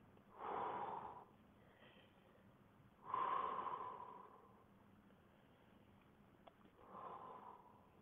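Slow exhalations during a yoga exercise, lowering the heels one at a time to the ground; three soft, airy breaths out, each about a second long, spaced a few seconds apart, close and quiet with no talking.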